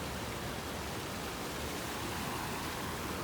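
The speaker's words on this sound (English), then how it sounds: "And you can hear kind of a roar, so I might be seeing another waterfall up here." Rushing water from a mountain stream and waterfall in the upper Fryatt valley fills the air with a steady, even roar, broadband and unbroken, with no voices over it.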